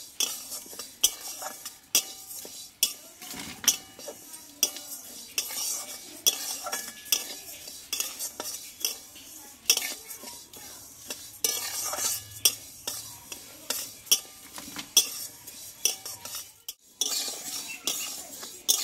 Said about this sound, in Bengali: শুকনো খোলায় আমি ডালটা একটু ভেজে নেবো এইভাবে